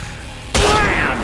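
A Desert Eagle pistol fires once in a video game, a single sudden loud blast that cuts in after quiet background and leaves a long ringing decay.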